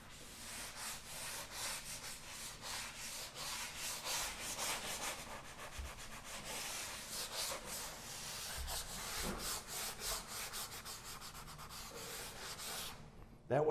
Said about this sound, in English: So all I want to do is just lightly sand any ridge that's there